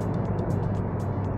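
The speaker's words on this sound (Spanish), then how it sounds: "para tener este petardeo" Ford Focus ST 2023 with the 2.3 EcoBoost engine, 280 hp, sounding close and steady, with a low rumble and a run of short crackling exhaust pops spread across the clip.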